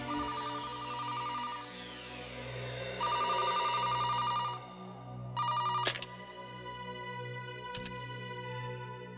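A telephone rings with repeated electronic trilling bursts, a sweeping tone then bright warbling rings separated by short pauses and a couple of sharp clicks, over a low steady hum with no voices.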